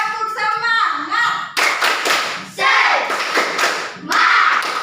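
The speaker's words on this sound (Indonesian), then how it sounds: "Tepuk semangatnya dulu. Tepuk semangat." A school class performs the 'tepuk semangat' spirit clap, with young voices chanting loudly and bursts of rhythmic group clapping and table taps breaking in between.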